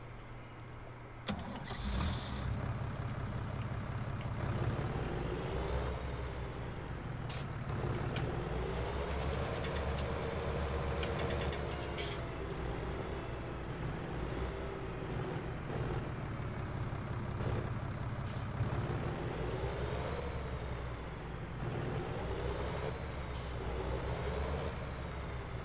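Tractor hauling a trailer in Farming Simulator 19, a steady droning engine running continuously throughout with occasional hiss and clatter bursts on top, loud and close, no voices.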